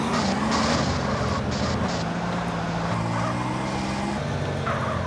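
Car engine in GTA San Andreas droning steadily at close range with shifting pitch as it drives, loud and continuous throughout, with no talk.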